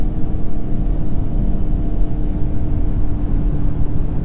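A steady low engine drone hums inside a 2022 Hyundai Santa Cruz with an 8-speed dual-clutch transmission, engine braking on a hill after a manual downshift, constant and moderately loud, with no talking.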